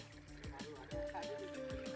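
Water escapes from a broken pipe tee fitting on a farm with a soft, steady gushing and trickling. Someone talks over it throughout.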